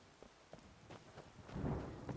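Steady in-game rain hisses throughout, with rumbling thunder swelling near the end, loud and unbroken by talk.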